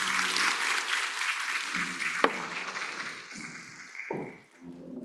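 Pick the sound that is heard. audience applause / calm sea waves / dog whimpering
audience applause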